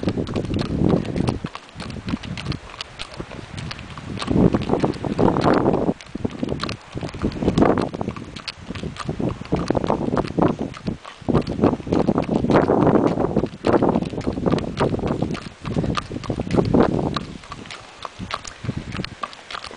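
A horse being led out onto a road walks along, its hooves clip-clopping in a steady rhythm close by under heavy wind buffeting the microphone.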